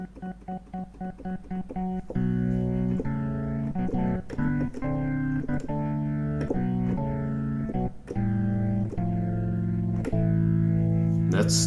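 Clonewheel organ chords from a Ferrofish B4000+ module with a gritty, crunchy overdrive, played as short stabs at first and then held, fairly loud with no speech.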